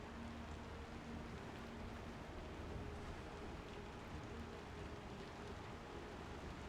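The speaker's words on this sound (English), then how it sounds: "Shine it right on up with this acid rain." Acid rain pelting a spaceship in the video game Star Citizen, a thick, unbroken patter and hiss over a faint low hum, holding steady throughout with no voices.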